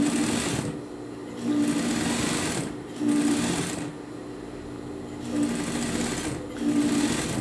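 A sewing machine hems knit fabric in several bursts of fast mechanical whirring, close and loud, with short pauses between runs and no talking.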